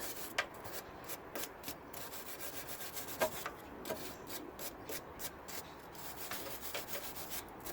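Threads and nut on a BMW E60 5 Series rear control arm being cleaned, producing a quick rhythmic series of rubbing, brushing scrapes, close up and without talk.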